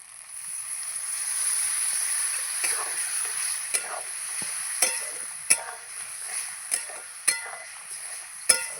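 Water from a spice-grinding bowl poured into a pan of frying spiced pointed gourd and Gobindobhog rice brings a building hiss, followed by scattered scraping stirs and crackles.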